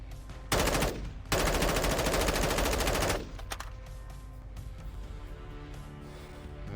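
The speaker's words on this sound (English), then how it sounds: "I'm just shooting randomly now." Automatic gunfire in the video game Call of Duty DMZ, loud sustained bursts of rapid shots for a few seconds, then fading into lighter game ambience and scattered clatter.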